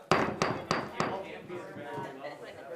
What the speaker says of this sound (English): they won't do it till you hit the hammer